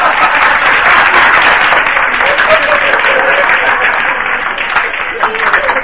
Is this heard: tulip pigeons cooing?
no